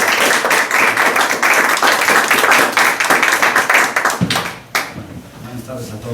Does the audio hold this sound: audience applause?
yes